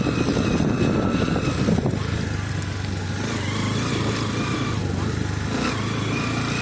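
A motorcycle riding along a village road past fields gives off a steady, close engine drone that holds evenly throughout, with a rough rushing wash over it.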